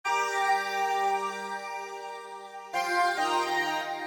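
A Roland Juno-106 string synth pad washed in phaser, chorus, stereo widening, delay and reverb swells through one long chord, then shifts to a new chord near the end, lush and spacious with no talk.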